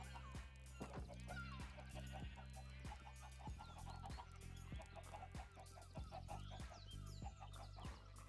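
Chickens clucking in modded Minecraft, a run of short repeated clucks over a steady, busy game music bed, fairly clear and continuous with no talk.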